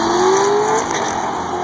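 A 1966 Dodge Charger NASCAR race car engine roars loudly and steadily, with a rising whine early on and no talk over it.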